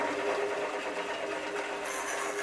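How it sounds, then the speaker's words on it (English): A woodworking bandsaw, used to cut a wooden angel ornament, gives off a steady whirring mechanical hum with a faint tonal whine, moderately loud and without talk. "turn your bandsaw off"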